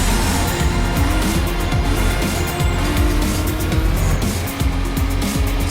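A Renault Clio racing in Need for Speed Most Wanted roars loud and close, its engine revving hard with rough, pulsing gear changes and steady high-speed road noise throughout.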